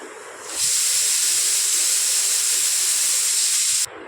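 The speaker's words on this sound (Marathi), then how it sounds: "कुकर लावला आहे मी" A pressure cooker releases a loud, steady hiss of steam that starts abruptly after a brief quiet moment and holds continuously for several seconds before cutting off sharply.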